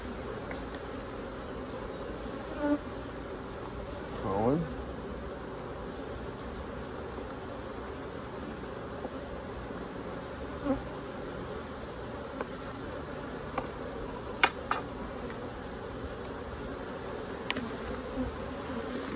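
Honey bees buzz steadily around an open hive during an inspection, a close, continuous drone with a few louder passes as single bees fly near.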